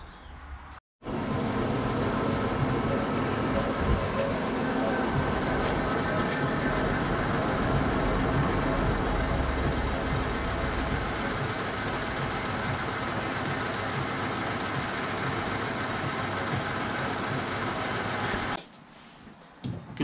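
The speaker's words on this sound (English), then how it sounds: "I'm going to have to set this up in the lathe and spin 1mm off it." A metal lathe spins a part to take about 1mm off its diameter for an M57 engine swap in an FJ75 Troopy. Steady, loud, continuous machining noise runs nearly twenty seconds, then cuts off at the end.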